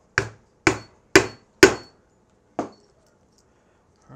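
A hammer sets a snap rivet on a leather holster with five sharp, close strikes: four evenly spaced blows, then a pause and a final tap, with no talking.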